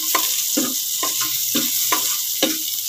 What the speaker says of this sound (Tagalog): Sote muna natin.